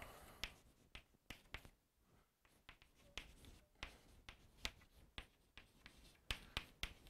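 Writing on a board during a math lecture: a series of sharp taps and short scratchy strokes in irregular rhythm, close and fairly quiet, with no speech over it.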